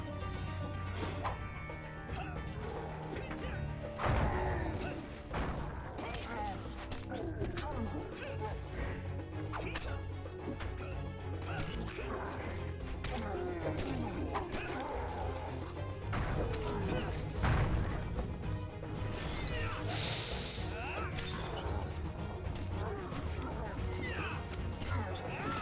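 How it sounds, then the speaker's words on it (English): Heavy ground-smashing blows from an enemy in the action card game Hand of Fate, crashing repeatedly amid a busy, loud game soundscape of music and effects, with a player talking over it. "He's just over there smashing the ground"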